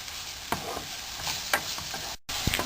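Chopped onion frying in a pan is stirred with a utensil, a few sharp scraping strokes over continuous close sizzling, with a brief dropout near the end and no talking.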